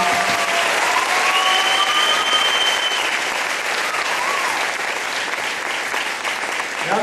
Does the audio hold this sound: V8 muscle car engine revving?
no